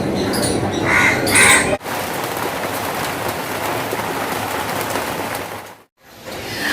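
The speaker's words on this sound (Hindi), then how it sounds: "बाहर बहुत तेज़ बारिश हो रही है" Steady heavy rain hisses outdoors, with crows cawing loudly at the start, then a dense unbroken downpour with a brief dropout near the end.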